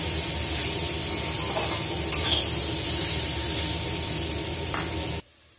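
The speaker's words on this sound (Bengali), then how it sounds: "এবার মশলার সাথে আমলকিটা ভালো করে মিশিয়ে নেব।" Amla (Indian gooseberries) being stirred and mixed with pickle spices, a steady close scraping, rustling texture that runs without a break for about five seconds and then cuts off abruptly.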